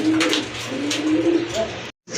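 Domestic and foreign pigeons kept for sale coo softly in low, rolling calls that overlap and come close together, ending in a brief pause.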